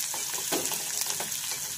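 Chopped onion and green chili sautéing in a pan, a steady close sizzle with light crackles and a few soft stirring scrapes, no voices.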